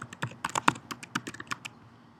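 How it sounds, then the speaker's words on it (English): Rapid typing on a computer keyboard while entering login credentials: a quick, uneven run of crisp, close key clicks, with no voices. "So I'll type those in for me"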